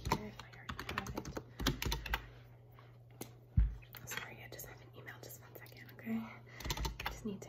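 Close computer keyboard typing comes in quick bursts of clicks with soft whispering woven between them, set in a quiet office roleplay.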